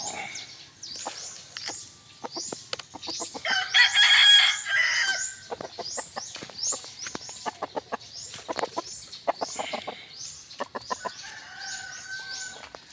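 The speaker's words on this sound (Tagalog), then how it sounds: "Magpapakain tayo ng ating alagang manok." Pet chickens and a rooster at morning feeding time in a backyard coop, with loud repeated crowing and busy clucking that rise and fall close by, and no voices.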